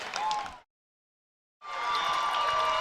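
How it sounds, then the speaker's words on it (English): A high school football crowd at Springfield roars and cheers in bursts from the stands, a noisy wash of voices and applause that drops out completely for a second before swelling back up. "The crowd loves it here in Springfield."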